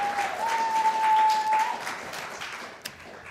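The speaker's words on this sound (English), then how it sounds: "you say the title and you say the name and people cheer" An audience at a poetry reading applauds steadily, a dense wash of clapping that swells and fades, with a thin whistle-like cheer rising above it.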